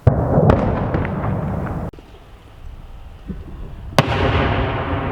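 Outdoor wind noise with a couple of sharp, distant booming bursts from drone fire near Chasiv Yar, one near the start and another later, followed by rumbling.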